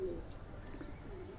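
Pigeons cooing softly in a loft with newly paired birds, a low steady murmur of calls close by with no talk.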